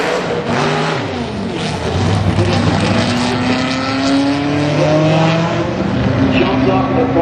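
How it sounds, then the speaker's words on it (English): A race car at a qualifying run roars loudly close by, revving hard and holding high engine pitch before the throttle is released and the note falls away, with a commentator talking over it. "Jumps off the throttle, and that is going to be it for Albertson on that run"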